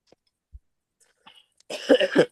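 A few faint throat noises, then a burst of harsh, rapid coughing near the microphone at the end.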